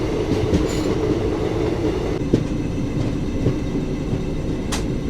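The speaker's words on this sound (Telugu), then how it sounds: "ఇక్కడ కరువు తీసుకుంటుంది మన ట్రైన్" The 17420 Vasco-da-Gama to Tirupati weekly express rolls steadily along the rails on a curve, a loud continuous rumble with rhythmic clickety-clack of wheels over joints and a few sharper clanks, no voices.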